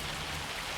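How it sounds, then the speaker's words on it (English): Hail falling in the video game Farming Simulator 25, a dense, steady patter of pellets across the whole moment, like heavy rain drumming on surfaces, with no voices. "it is hailing."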